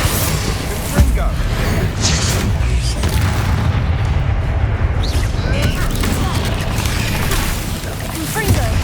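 Fiery spell blasts booming through a Hogwarts Legacy battle, a dense run of loud, overlapping explosive bursts and crashes with rumbling low end, layered over continuous game effects and a speaking voice.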